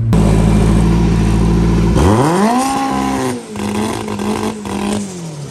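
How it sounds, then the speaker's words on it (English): A race car engine at a no-prep drag event drones loudly, then drops and sweeps up in a rising rev with its two-step off, before settling into a rough, fluctuating idle. "with no two-step, it revs up freely"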